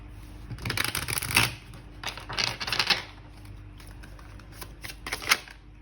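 Oracle cards being shuffled by hand in several quick riffling bursts separated by short pauses, close and crisp, without talk.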